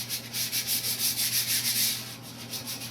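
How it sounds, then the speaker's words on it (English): Wooden bathroom ceiling boards, already planed, get sanded by hand in a steady back-and-forth rubbing rhythm, close and fairly loud, a continuous scratchy hiss pulsing with each stroke and no voices. "I'm just going to sand it down"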